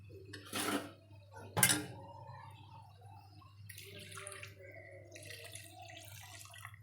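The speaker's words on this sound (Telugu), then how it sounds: "ఆ వాటర్ని దీంట్లో పోసుకుందాం" Two sharp metallic clanks of a pot, then soaking water pouring and splashing into a pot of red lentils, a quiet, uneven wash of sound.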